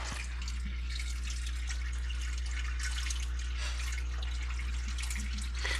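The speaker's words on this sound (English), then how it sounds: "So let's get this tank filled up and let things settle." Water pours steadily into a fish tank, striking a plate set over soil substrate, giving a continuous close splashing wash with a low hum beneath and no voices.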